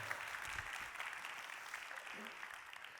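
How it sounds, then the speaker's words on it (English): A summit audience gives a brief round of applause for a speaker, fairly faint, steady clapping from a seated crowd with a little voice underneath. "Why don't we have another round of applause for Kevin, everybody?"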